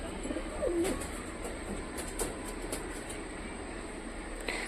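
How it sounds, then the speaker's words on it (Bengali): Giribaz pigeons in their loft, where many birds sit in pairs, give soft, low cooing calls in short bursts over a faint, steady background hum, with no one speaking. "তো সব পায়রা জোড়া জোড়া ঢুকে আছে, আর কিছু পায়রা খাওয়ার জন্য নিচে নেমে আছে"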